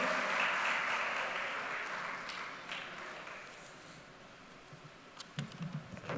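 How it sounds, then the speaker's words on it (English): Audience applause for a Vice Chairman at a formal conference evening, a dense crowd clapping at full strength that gradually thins and fades, with a few sharper scattered claps near the end. "Give him a big round of applause."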